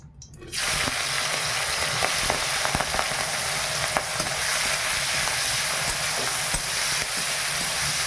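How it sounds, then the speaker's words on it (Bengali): Boiled banana flower (mocha) dropped into hot oil bursts into a loud, steady sizzle that carries on close and unbroken, with faint stirring clicks beneath. "এবার আমি মোচাটা সাঁতলিয়ে নেব, সিদ্ধ হয়ে গেছে।"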